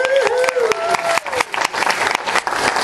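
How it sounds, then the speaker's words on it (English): An audience in Clarach Bay, Wales applauds a singer with loud mixed clapping, while a voice speaks or sings briefly at the start over the claps. "Your applause for number three."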